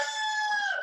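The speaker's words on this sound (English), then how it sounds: "The rooster's name is Bruce, and I think he's with the bird that I call Dinosaur." A rooster lets out a single loud, sustained crowing call, clear and close, with a slight downward fall at the end.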